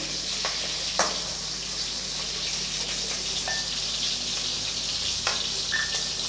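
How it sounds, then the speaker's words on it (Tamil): Onions and curry leaves frying in oil for a Tamil-style egg curry, a steady close sizzle with soft crackles and a few brief pops, no talk. "கொஞ்சம் செவந்து வரட்டும் கொஞ்சம் கருவேப்பிலை சேர்த்துடலாம் வெங்காயம் ஓரளவுக்கு நல்லா வதங்கிடுச்சு"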